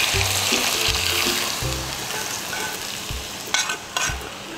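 Hot coconut oil is poured over Balinese sambal matah with shrimp paste, giving a loud continuous sizzle and crackle with stirring scrapes and a few sharper clinks toward the end.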